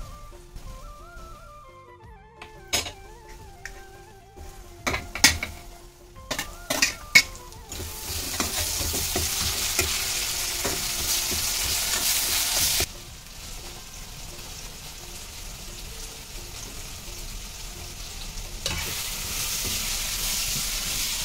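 Tomatoes and potatoes stir-fried in a pan: a few sharp clanks and scrapes of the utensil at first, then a loud, steady sizzle that continues to the end.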